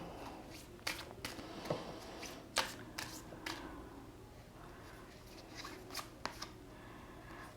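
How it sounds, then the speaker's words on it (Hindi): Tarot cards from a Major Arcana deck being handled and drawn, with a string of soft, close papery flicks and shuffling slides spread over several seconds. There is no talking. "मैं मेजर अरकाना से एक कार्ड निकालूंगी आपके लिए।"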